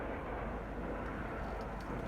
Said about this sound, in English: I think planes passing by.